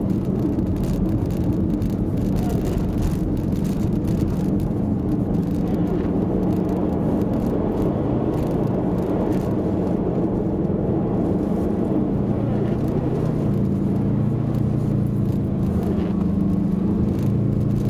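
A rally car on an ice racing track: a steady, loud engine drone and rumble with wind noise, sustained throughout at close range as the car slides around.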